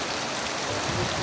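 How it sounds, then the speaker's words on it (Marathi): Heavy monsoon downpour makes a brief, steady, dense hiss of falling water, loud and close with no gaps. "मुसळधार पाऊस आलेला आहे"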